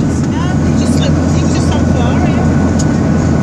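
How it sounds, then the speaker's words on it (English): Steady, loud airplane cabin engine roar, a dense broadband drone that fills the whole stretch without letting up, with faint murmuring beneath it. "that is the plane that we are on"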